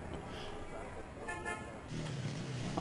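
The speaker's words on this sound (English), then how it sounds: "Honk, honk." A car horn toots briefly in the Gabriel Knight video game, a short mid-level honk over steady background noise and street hum.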